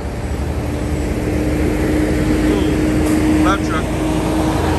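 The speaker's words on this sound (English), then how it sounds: "Loud truck." A loud truck passes along a street in historic Savannah, Georgia, making a heavy, steady rumble that fills the whole moment, close by and without a break.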